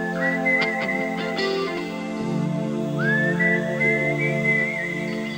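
A clear, close whistle carries the melody of a song, the phrases gliding and sustained over a steady sustained backing.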